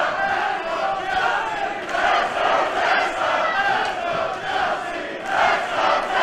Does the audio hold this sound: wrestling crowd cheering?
yes